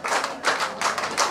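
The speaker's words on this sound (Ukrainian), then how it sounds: "Аплодисменти." Audience clapping at a Ukrainian folk band's comic table-song performance: a short burst of a few loose claps in uneven rhythm, moderately loud and close, no talking over it.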